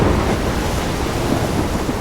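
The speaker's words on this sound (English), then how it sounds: "I'm trapped in a storm?" A thunderstorm in the video game Life is Strange churns as a loud, continuous rumbling roar of wind and heavy rain, with no separate thunderclap standing out and no voices.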